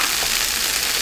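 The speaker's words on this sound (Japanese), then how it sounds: "じゅうじゅう言うとります。" Black edamame sizzle and crackle in foil with sesame oil and salt, making a continuous, close hiss with no talking.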